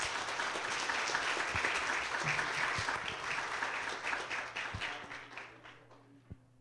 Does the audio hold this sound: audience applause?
yes